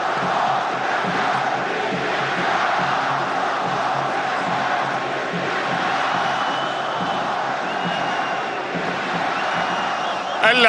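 Stadium crowd noise from Iraqi football supporters rumbles continuously, a broad roar of cheers and shouts at a steady level, with a brief louder burst at the very end; faint talk may sit beneath it.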